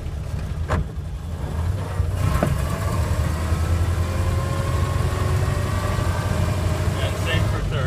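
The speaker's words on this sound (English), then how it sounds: "To upshift to second, we want a double clutch." A 1928 Ford Model A Tudor sedan engine runs steadily with a low droning hum while the driver double clutches into second gear, with a couple of faint mechanical clicks over the constant engine note.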